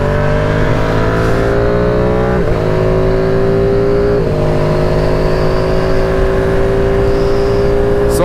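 Ducati Streetfighter V2 motorcycle engine revving at full throttle, a loud, close, sustained twin-cylinder howl climbing through rising pitch sweeps with brief dips between pulls, continuous and alone without talk.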